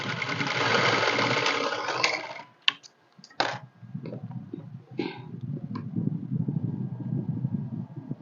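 A sewing machine joins two shoulder edges with thread piping in a run of fast, steady stitching for about two seconds, followed by a few sharp clicks and handling noises and then a low background rumble.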